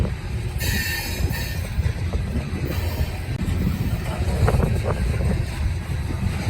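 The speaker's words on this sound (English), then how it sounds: "but I've only seen that on coal trains like this one" A long coal train rumbles steadily past nearby in Glendale, Ohio, wheels clattering on rails with occasional squeals over a continuous low roar.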